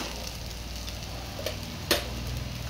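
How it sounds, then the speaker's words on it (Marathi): Masala sautés in a pan for a rustic black-masala brinjal curry, a quiet, steady sizzle with a faint tap and one sharper clink of a spoon against the pan. "मसाला व्यवस्थित परतवून घ्यायचा आहे।"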